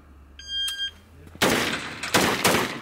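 A couple of brief electronic shot-timer beeps, then two sharp, loud gunshots in quick succession at shooting practice, each with a short noisy decay.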